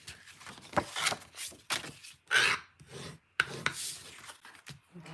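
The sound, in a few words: bone folder burnishing paper card bases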